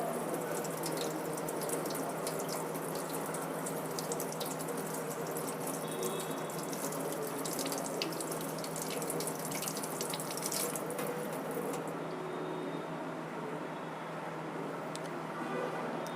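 Running tap water streams steadily to wash stain off a smeared microscope slide in a physiology lab, a continuous close splashing flow lasting throughout and easing slightly near the end.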